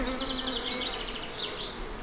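Honey bees buzz steadily around a nuc hive used to raise brood for early-season splits, a continuous close droning hum with a few louder individual passes near the microphone.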